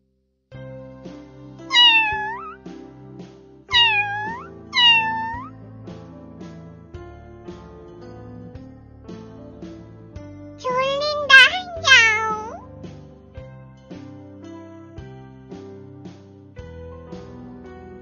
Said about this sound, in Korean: 어른 고양이란다